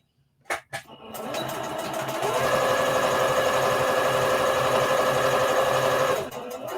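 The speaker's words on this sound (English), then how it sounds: "you're going to start and back stitch and stop and then just come down" Sewing machine back stitching fabric for an Easter bunny treat bag: a couple of short needle taps, then a steady, loud, close mechanical whirr that runs several seconds before stopping.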